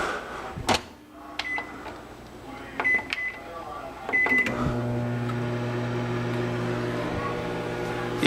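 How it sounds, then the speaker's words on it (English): A microwave oven heating peas under a paper towel gives a few beeps and door clunks, then settles into a steady, close humming drone, with a voice speaking over the early part. "Then, after the minute, you pull it out of the microwave."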